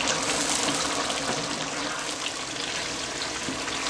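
Spicy fried eggplant stew with meat simmers in a pot, giving a continuous dense bubbling and sizzling hiss, close and steady throughout with no voices.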